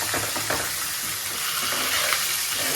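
Curry leaves and raw mango fry in a pan for Ugadi pachadi, giving a dense, steady sizzle close by with light stirring sounds and no talking.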